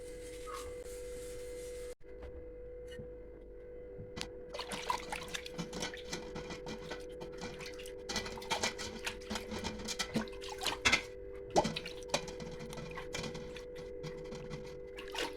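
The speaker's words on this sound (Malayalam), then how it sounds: "ഇനിയൊരു സ്ക്രബ്ബർ ഉപയോഗിച്ച് ക്ലീൻ ചെയ്തെടുക്കാം" A brass lamp is scrubbed and washed with a scrubber, giving irregular wet rubbing scrapes and small water splashes that come in bursts over a low steady hum, close and fairly quiet.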